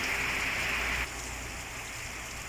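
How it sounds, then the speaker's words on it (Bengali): Monsoon rain falls on an island in a steady, moderate hiss; a higher-pitched whine fades out after the first second, leaving just the even patter. "এই দেখো বৃষ্টি পড়ছে, বৃষ্টির মৌসুম।"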